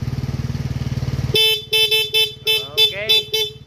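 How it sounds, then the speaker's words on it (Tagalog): A Honda Click 125 motorcycle horn honks in a run of short, sharp beeps, roughly seven bursts in quick irregular rhythm, loud and close after a steady engine idle. "Busina."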